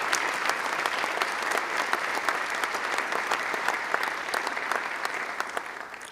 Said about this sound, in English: I think it's worthy of some applause at this time